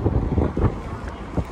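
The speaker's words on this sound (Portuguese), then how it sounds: "Meu Deus, que vento gostoso." Wind gusting at the Arc de Triomphe in Paris on a blustery day, a loud rumbling buffet against the microphone with short surges and no clear speech.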